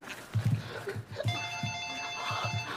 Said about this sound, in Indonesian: tiba-tiba terdengar telepon rumah yang berbunyi